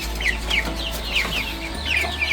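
Young chickens on a farm cluck and chirp close by, short high calls overlapping in quick bursts above a low steady background hum.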